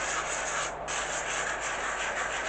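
Gentle hand sanding in a first soft pass across a decoupage surface: a continuous, close, hushed rubbing and scratching with an even level throughout and no talk.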